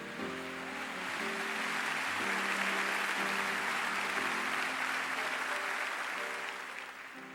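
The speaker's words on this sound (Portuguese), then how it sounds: "Você pode aplaudir forte Jesus por isso?" A church congregation applauds loudly during a sermon, a dense, sustained wash of clapping that swells and then eases toward the end, over a low, steady tonal hum from instruments or sound system.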